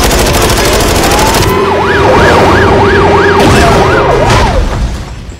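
An ambulance siren wails in Call of Duty: Modern Warfare, a loud rising-and-falling yelp repeating about six times up close over a rumbling engine, then fading out at the end.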